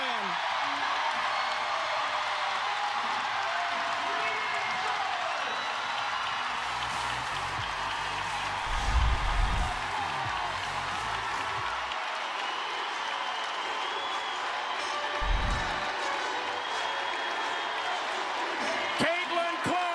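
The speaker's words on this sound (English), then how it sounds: "This crowd, wow, in only ways that Caitlin can." A packed basketball arena crowd at an Iowa women's game cheers and applauds in a record-breaking moment for Caitlin Clark, a continuous roar of clapping with a few louder swells, under a commentator's talk.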